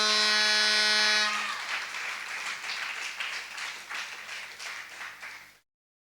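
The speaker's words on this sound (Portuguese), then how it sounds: "Você pode aplaudir ao Senhor?" After a brief buzzing, horn-like tone, a church congregation breaks into sustained applause, a dense patter of many hands clapping that fades out after several seconds.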